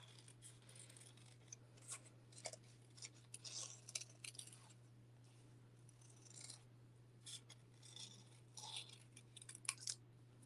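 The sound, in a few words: scissors fussy cutting out paper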